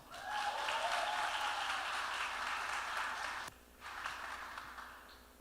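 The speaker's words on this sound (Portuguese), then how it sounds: "Você pode receber com a salva de palmas?" Applause from a church congregation at an evening celebration service, a dense steady clatter of many hands that runs for several seconds, briefly dips, then picks up again more softly.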